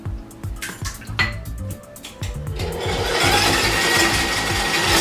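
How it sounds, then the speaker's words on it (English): Vanilla, vegetable oil and two eggs for a chocolate cake batter are mixed in a bowl, starting with clinks and taps of utensils before a steady electric mixer whir takes over, close and alone. "we're going to mix all these together until they're light and fluffy"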